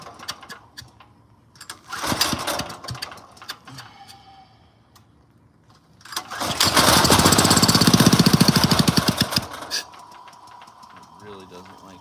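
A small engine running with the choke off, sputtering and surging in uneven bursts, then a sustained loud rough run that cuts out, with someone talking in between.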